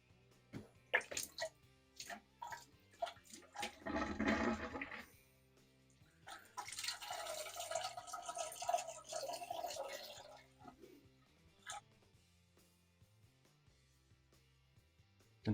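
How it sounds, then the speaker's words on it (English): Aquarium water runs through a siphon hose into a downstairs toilet, heard as separate gurgling and splashing bursts with drips and rattles between them, quiet and close. "run this down to the downstairs toilet. And start the siphon."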